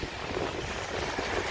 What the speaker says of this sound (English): It's getting a little bit more rain now.